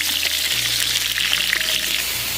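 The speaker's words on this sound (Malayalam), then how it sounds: "ഇതൊന്ന് നല്ലോണം വഴറ്റി കിട്ടട്ടെ കേട്ടോ, നല്ലോണം വഴറ്റണം" Lemons sizzle steadily in a hot pan as they are sautéed for lemon pickle, a dense, continuous frying hiss with no pauses and no voices.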